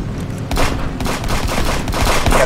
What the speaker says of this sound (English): He got upstairs, I just shot him.